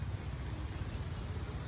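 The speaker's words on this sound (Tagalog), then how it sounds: "halos araw-araw umuulan" Rain comes down steadily in the Philippines on a rainy day, a continuous, close hiss of drops with no breaks and no voices.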